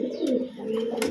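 Close, clear cooing of a domestic pigeon kept at home, one short soft throaty coo, with a faint chirp heard under it and no talk.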